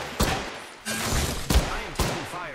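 Gunfire in the Apex Legends video game, several sharp cracks and thuds spaced irregularly over a bed of combat noise, close and punchy.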